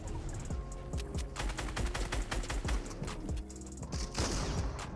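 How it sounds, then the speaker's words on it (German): Tommy gun fired in a video game: a rapid, sustained rattle of close, loud shots in fast bursts with brief pauses, mechanical clicks between them. "Das ist fucking Tommy Gun"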